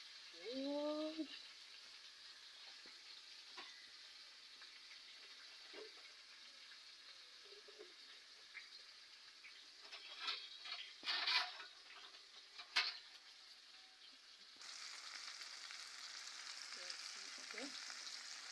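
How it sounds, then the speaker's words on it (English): Four pieces of chicken roll frying in a pot of oil, a steady soft sizzle throughout with occasional louder crackles and stirring clatter near the middle, a voice speaking briefly at the start. "Yes guys, the chicken is frying."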